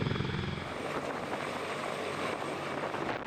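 A large US military helicopter flies during an invasion exercise, its rotor thudding in a steady, loud, continuous roar with no pauses and no voices.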